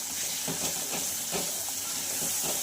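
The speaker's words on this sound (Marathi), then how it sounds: "मिक्स करून घ्यायचं आहे आणि छानपैकी याला फ्राय करून घ्यायचं आहे" Homemade masala paste mixed with tomatoes sizzling in a pan over medium heat, a steady close hiss with soft stirring scrapes throughout.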